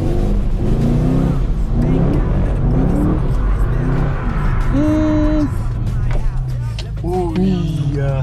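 A Chevrolet Camaro drifts around a roundabout, its engine revving in rising and falling sweeps over a constant roar of road and tyre noise, loud and close throughout.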